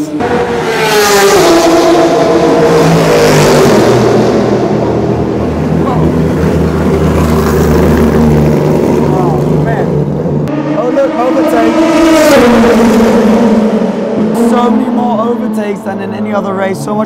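Race car engines at the 24 Hours of Le Mans at night roar past one after another, revving up and fading with a sweeping whine, loud and continuous with a crowd-like background rumble.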